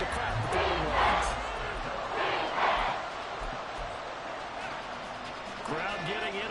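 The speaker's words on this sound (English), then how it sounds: "Crowd getting in it a bit already." Stadium crowd noise in an American football video game forms a continuous roar with swelling cheers rising and falling in waves, while a commentator talks over it throughout.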